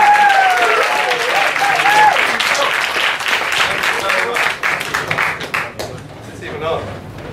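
An audience at a comedy night bursts into loud, sustained applause and cheering for a comedian taking the stage, with a host's voice calling over it before the clapping thins out.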